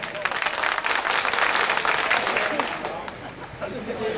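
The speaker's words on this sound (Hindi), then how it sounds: "एक बार ताली बजाएं।" A crowd at a Sambhal mushaira poetry recital applauds for several seconds, dense clapping that swells and then tapers off, with some chatter mixed in.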